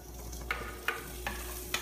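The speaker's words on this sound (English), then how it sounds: "We're gonna take our meat, put it here in our fry pan" Meat frying in a fry pan with no oil, a steady low sizzle with a few soft clinks or stirring taps spaced about every half second, close and fairly quiet, no talking.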